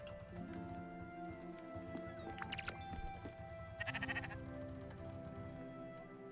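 A sheep in the farming game Spiritfarer bleats twice in short wavering calls over a steady tonal music bed, with light hooflike clopping underneath.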